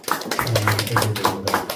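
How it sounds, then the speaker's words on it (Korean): Congregation in a Korean church gives a short round of clapping after a Wednesday evening prayer, rhythmic hand claps repeating at a steady pace over a low sustained hum. "우리 기도를 들으신 하나님 앞에 영광의 박수 드립니다."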